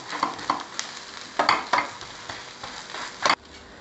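A bread omelette with egg and capsicum fries in a pan, soft sizzling under a series of sharp scraping and pressing taps from a utensil, about six distinct strokes.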